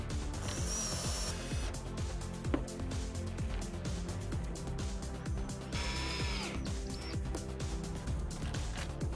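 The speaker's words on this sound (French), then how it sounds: "Vissez-les sur chaque lambourde du soubassement." WPC decking mounting clips screwed onto joists with a power drill, the motor whirring in sustained bursts with ratcheting clicks over a steady busy background, close and continuous.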